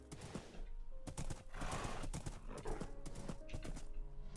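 Hooves of a horse clip-clop in steady, repeated beats in a modded Minecraft game, moderately close and clear, mixed with background game sounds and faint music.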